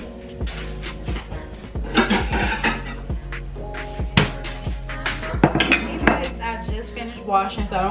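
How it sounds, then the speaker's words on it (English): A plate is set down while dishes and cutlery clink repeatedly at a kitchen counter during a spaghetti meal, producing close, bright clatters and scrapes in an irregular rhythm. "So we're gonna set his plate right here, and then we're gonna make up my plate."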